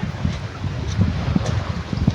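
Gusty wind by a lake buffets the microphone with a low, continuous rumble, rising and falling in uneven bursts.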